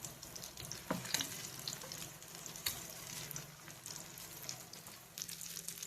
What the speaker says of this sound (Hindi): दूसरी साइड भी पापलेट अच्छे से क्रिस्पी होने तक फ्राई कर लेंगे